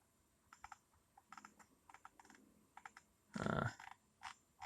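Quiet clicks of typing on a computer keyboard come in short irregular bursts, then a louder clatter of rapid keystrokes. Distant room noise sits underneath.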